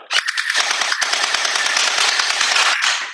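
A JinMing X2 Glock gel ball blaster fires without blowback in a rapid continuous burst of sharp, loud, close buzzing shots that lasts about three seconds, with no voices.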